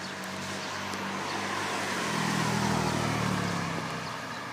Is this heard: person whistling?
no